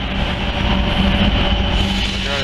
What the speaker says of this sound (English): I got myself the eastbounder coal train